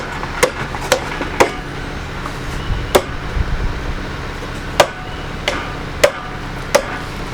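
Sharp, separate knocks sound about once a second, firm hand taps fitting a wooden storage cubby piece into place, brief pauses between them, close by and without speech.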